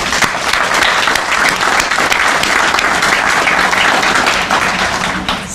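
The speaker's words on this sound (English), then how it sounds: "So I want to give all of them a round of applause." Steady applause from an audience at the opening ceremony of a renovated branch library, dense clapping holding loud and even for several seconds with no talk over it.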